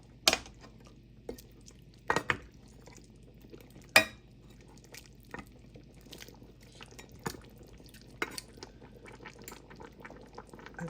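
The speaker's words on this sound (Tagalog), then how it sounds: "Haluin natin." A pot of Filipino beef soup, nilagang baka, simmers with a soft, steady bubbling while a utensil stirs it. Occasional faint clinks and scrapes against the pot break the low, quiet boil.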